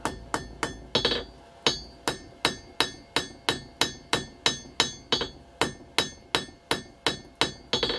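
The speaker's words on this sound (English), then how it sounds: "I'm actually hitting on a slight angle with the heel of my hammer to try and forge in the bevel" A hammer strikes a steel knife blade in a fast, steady rhythm, about twenty sharp ringing blows close by, forging the bevel with the hammer's heel at a slight angle.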